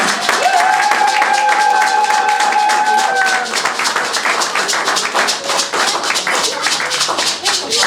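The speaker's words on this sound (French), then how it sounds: "acclame, pousse un cri de joie!" A church congregation claps and cheers, with dense, loud applause and shouting voices filling the space continuously from start to finish.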